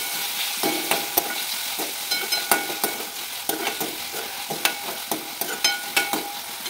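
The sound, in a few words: tomatoes roasting in a pan with salt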